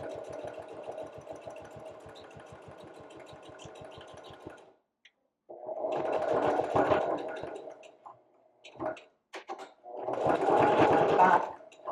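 Sewing machine back-stitching a wallet zipper: a rapid rhythmic mechanical whir runs for several seconds, stops, then comes back in short bursts separated by pauses, close and clear.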